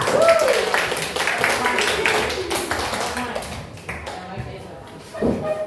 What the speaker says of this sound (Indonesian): Tepuk tangan untuk Mikaela